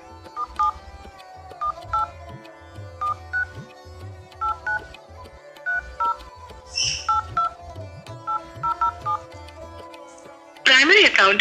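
A telephone keypad sends a credit card number to an ICICI phone-banking system as a long run of short DTMF beeps in irregular clusters, and a recorded voice prompt follows at the end.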